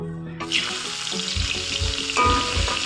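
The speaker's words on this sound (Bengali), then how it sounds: "তো এখানে আমার তেল গরম হয়ে গেছে। এখন আমি দিয়ে দেবো এখানে পেঁয়াজ।" Chopped onions hit hot oil in a home kitchen pan, sparking a sudden loud sizzle that settles into steady crackling frying, with faint clinks throughout.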